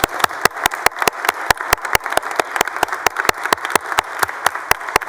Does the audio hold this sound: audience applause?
yes